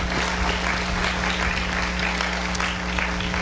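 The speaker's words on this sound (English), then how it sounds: "Give these students a round of applause," Steady applause from an audience honoring students at a senior awards ceremony, an even wash of clapping over a constant low electrical hum.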